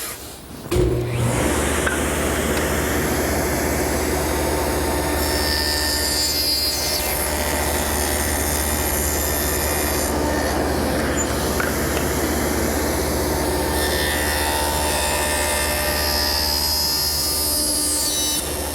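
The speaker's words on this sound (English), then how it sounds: "With my miter gauge set at 90 degrees, I run the piece through first on one side, then on the other side." Table saw running continuously while tenons are cut with a miter gauge set at 90 degrees, a loud steady motor whine and cutting noise that holds throughout, close by.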